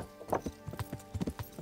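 Horse hooves clip-clopping at a quick, uneven trot while riding in the video game Kingdom Come: Deliverance, close and distinct, with a faint snort or whinny-like sound early on.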